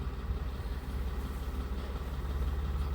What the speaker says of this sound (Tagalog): traktura namin na nagbibiak ng kahoy